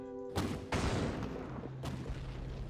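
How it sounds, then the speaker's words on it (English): Rocket launcher shots and explosions in a video game, several loud blasts and booming bursts in quick succession with a rumbling tail, no one speaking. "Let's blow up everything."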